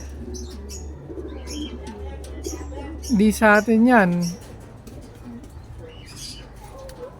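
Racing pigeons coo in a short rising burst of throaty calls near the middle, with scattered chirps around them, while someone talks over it and a low engine-like hum runs underneath at the start.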